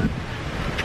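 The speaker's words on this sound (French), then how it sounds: "Les aléas du direct et de dehors, c'est qu'il y a du vent et le papier s'envole." Wind blows outdoors and rumbles against the microphone as a steady, loud buffeting that lasts under a second.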